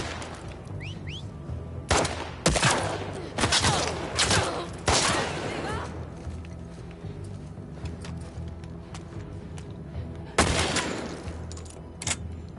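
Gunfire in The Last of Us Part II game: several sharp shots in a scattered volley, some close and loud, others lighter, over a background of game ambience.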